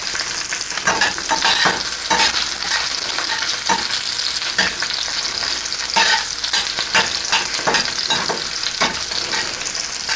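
Ridge gourd and cumin frying in a pan while being stirred, a loud steady sizzle broken by repeated scraping strokes of a spatula throughout.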